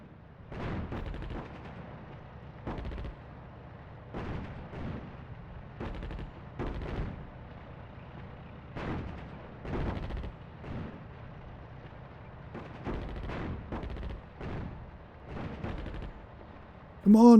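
Repeated gunfire bursts in the North Africa strategy game Attack at Dawn, a steady run of sharp shots and short volleys spread evenly across the clip at moderate loudness, with a brief louder hit at the very end.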